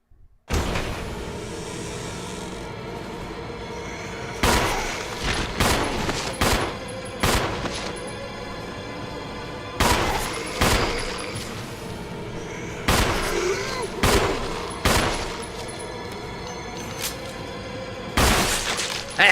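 Gunshots in a Resident Evil video game, set in the mansion, several loud sharp reports spaced out in small clusters over a steady low background ambience, with no talking.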